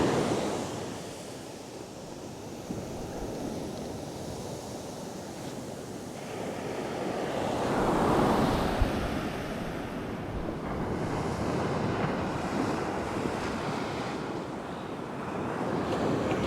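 Ocean surf rolls and washes steadily onto a beach where someone is fishing, a continuous broadband wash with a louder swell around the middle, mixed with wind buffeting the microphone.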